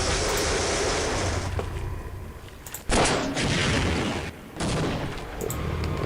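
Rocket launcher blasts in a video game, fired at crystals: two sharp, loud booming shots about a second and a half apart, each followed by a rushing roar, over a steady low game rumble.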